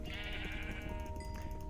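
Sheep in the Minecraft video game bleating, a single drawn-out wavering bleat with a shorter one following, heard cleanly with no talk.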